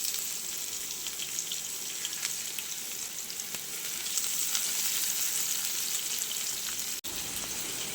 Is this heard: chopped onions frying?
yes